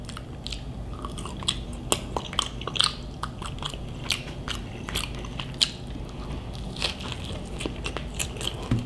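Close chewing and biting of a Burger King Impossible Burger, wet mastication with frequent crisp crackles and crunches in an irregular rhythm, with no talking.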